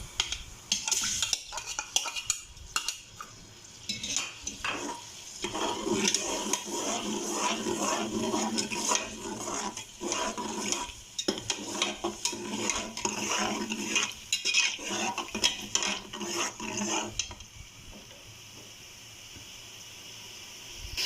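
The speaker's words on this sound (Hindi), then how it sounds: "अब ये प्याज डाल रहे हैं चॉप किए हुए।" Chopped onions fry in a cup of oil in a pot while a utensil stirs and scrapes against the metal, a continuous sizzle punctuated by clattering strokes that quiets near the end.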